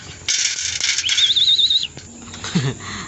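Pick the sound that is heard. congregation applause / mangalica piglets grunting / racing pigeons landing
racing pigeons landing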